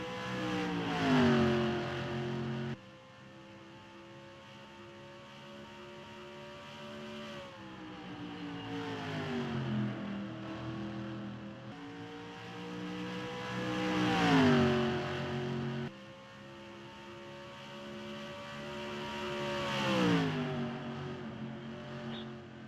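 FARCA stock race cars run in a pack, their engines droning and rising in pitch as they pass close by, then fading away again in repeated waves.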